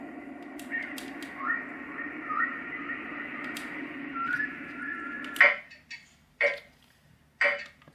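A dolphin sound from a Roffie white noise machine: high whistles and chirps over a steady low hum, followed by several short, sharp bursts toward the end.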